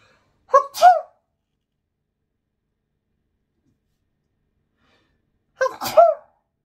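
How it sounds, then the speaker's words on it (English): Two sharp sneezes, each a quick double burst, separated by several seconds of silence. "I'm gonna sneeze."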